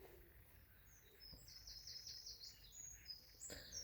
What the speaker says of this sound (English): This is the original pie peeper.